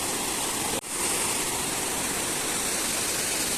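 Water rushes steadily over Puruna Pani dam in Kandhamal, a dense, continuous roar of flowing water with a brief dip near the start and no voices.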